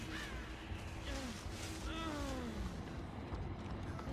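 Crows caw in the Dead by Daylight video game, several descending rasping calls scattered over a muddy, rumbling game background, fairly faint, with a voice also present.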